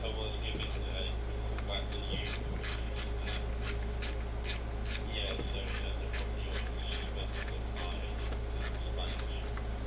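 A ratchet clicks in quick, rapid runs while tightening the carburetor bolts on a Stihl MS210 chainsaw, close by over a steady mechanical hum.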